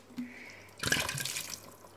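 Water from a water bottle is poured into a pot of spaghetti meat sauce in a home kitchen. After a short quiet stretch comes a sudden gurgling splash of pouring that trails off near the end, close and moderately loud.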